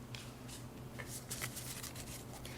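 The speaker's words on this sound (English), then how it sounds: "I'm going to shuffle this deck really quick," A deck of tarot cards is shuffled quietly up close, with soft riffling bursts and flicks of card edges repeating in quick succession.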